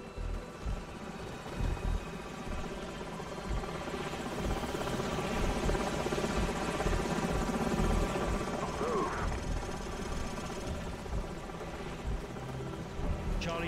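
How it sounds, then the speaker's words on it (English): Continuous whirring helicopter rotor drone with a steady engine roar, loud and sustained, with faint voices underneath, from enemy helicopters in Call of Duty 4: Modern Warfare. "Enemy helicopters."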